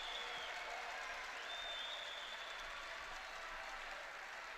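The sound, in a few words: applause in boxing arena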